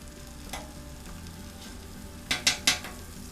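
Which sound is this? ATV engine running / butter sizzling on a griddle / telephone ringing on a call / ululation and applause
butter sizzling on a griddle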